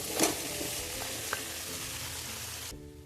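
Soybean chunks sizzle in hot oil with onion masala as they are stirred in, a steady crackling fry with a few scraping knocks of the spoon before it cuts off abruptly.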